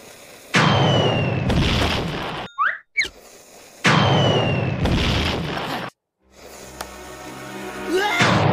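Firework rockets exploding in the Cuphead video game: loud booming blasts with crackling tails, two big bursts separated by brief whooshes and gaps, close and dominant.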